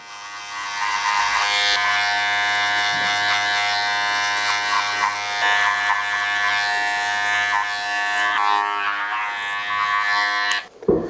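Electric hair clippers fitted with a size 5 guard buzz steadily and up close as they fade a mullet at the barber's, a loud continuous drone that cuts off abruptly at the end.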